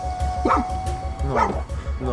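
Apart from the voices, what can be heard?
dogs barking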